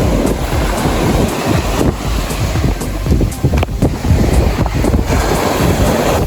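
Waves wash steadily on a New Brunswick beach, a loud continuous surf roar mixed with heavy wind buffeting the microphone, with no voices.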